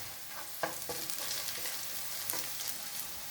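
Garlic frying in a pan until golden for stir-fried morning glory gives a steady close sizzle with a few scraping stir strokes and small pops, no talking.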